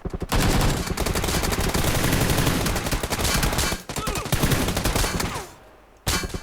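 Rapid bursts of automatic gunfire from the PUBG PC arcade mode, loud and dense for several seconds, breaking off briefly, resuming, then fading before a sharp final burst.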